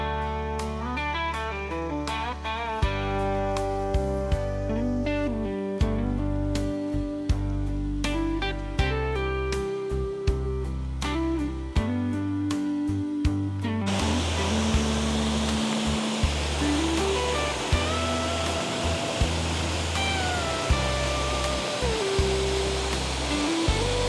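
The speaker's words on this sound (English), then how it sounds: "Not a big waterfall, but it's a waterfall in Florida." Falling Creek Falls, a small waterfall of about 10 to 12 feet near Lake City, Florida, gives a steady rushing hiss of falling water. Musical tones play over it for the first half.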